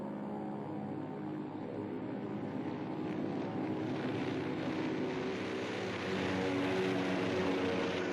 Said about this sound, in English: 150 American planes took to the air.